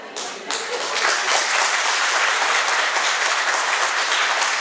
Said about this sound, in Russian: Это аплодисменты, вы слышали аплодисменты?